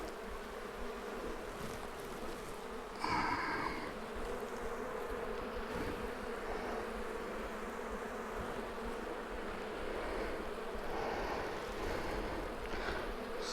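Honey bees buzzing around an open hive frame while a hive is prepared for moving: a continuous dense swarm drone close by, with individual bees swelling louder as they pass near, no talking.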